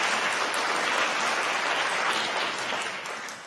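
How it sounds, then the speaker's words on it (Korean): Church congregation at a Sunday worship service breaks into steady, dense applause of welcome, a continuous wash of clapping that holds evenly and tapers slightly at the end. "여러분 환영의 박수 부탁드립니다."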